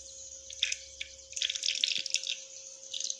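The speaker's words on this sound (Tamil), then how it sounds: "இப்போ நல்லெண்ணெய் கொஞ்சம் விட்டுக்கிறோம்." A little sesame oil trickles into a pan for cooking, making a soft, faint, liquid dribbling sound with a few brief drips in a quiet kitchen.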